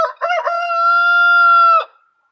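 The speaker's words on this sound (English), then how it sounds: "He's a smart rooster. He's a friendly rooster." A homestead rooster named Scotty crows once close and loud, a sharp stuttered opening then a long sustained tonal call that cuts off abruptly, followed by silence.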